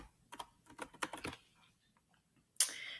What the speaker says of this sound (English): you have to type in your password again